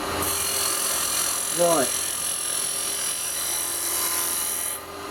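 Carbide cutter turning a small wooden bowl on a lathe, a steady broad cutting hiss running continuously at close range, with a brief spoken word partway through.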